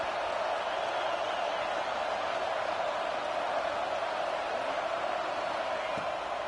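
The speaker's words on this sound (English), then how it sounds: "Decibels rising as the crowd gets behind this defense on third down." A stadium crowd in an American college football video game roars on third down, a dense continuous wash of noise holding steady at high level throughout.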